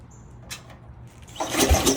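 Lawnmower engine catching at the end of a pull start, a brief scrape and pause followed by a loud, close, rough burst of running engine noise.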